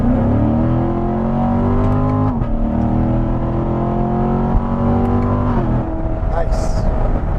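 A 2015 Corvette Stingray engine revs up hard through several rising pulls with quick gear changes between them, loud and close from inside the cabin, with a brief voice near the end.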